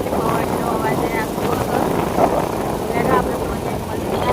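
A motorbike engine drones continuously while riding through a village, a steady loud hum mixed with wind rush, with people speaking over it.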